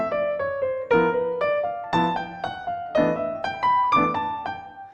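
Solo jazz piano improvising in bebop style, linking arpeggios, bebop scales and enclosures into a flowing single-note line over struck chords, with a rhythmic accented attack about once a second and no talking.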